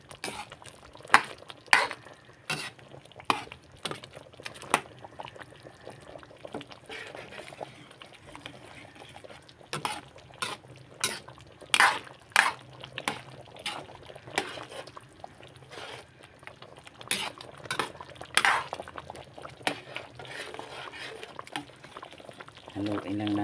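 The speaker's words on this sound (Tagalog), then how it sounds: "Haluin lang natin mabuti" A pot of chicken kaldereta with coconut milk bubbles while being stirred, with soft liquid churning and intermittent spoon clinks against the pot, close and moderately loud throughout.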